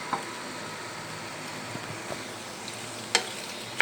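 Macaroni and vegetables fry in a pan, a soft, even sizzle that stays fairly quiet, with a few faint taps and a couple of sharper utensil clicks near the end.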